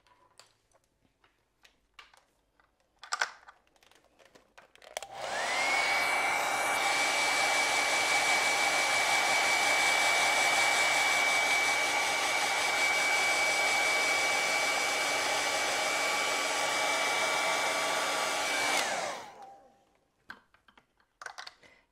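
A hair dryer blows on acrylic paint, switching on after a few quiet seconds with a loud steady whirring hiss and whine that holds for about fourteen seconds before cutting off, faint clicks around it.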